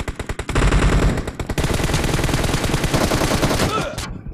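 Rapid bursts of automatic gunfire from a BattleGrounds Mobile India match rattle loud and close, dense volleys running almost continuously before cutting off near the end.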